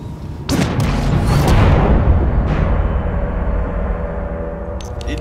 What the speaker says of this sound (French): Non, il y a une sacrée tempête!